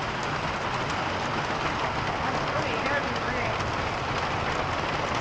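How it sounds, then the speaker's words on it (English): Heavy rain pouring down on a farm, a dense, steady wash of noise with no break, close and fairly loud throughout. "It's raining so much."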